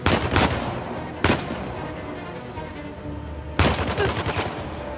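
Gunfire in the video game Uncharted: The Lost Legacy, three sharp loud bursts of rapid automatic shots, the first and last longer and the middle one brief, separated by a rumbling background.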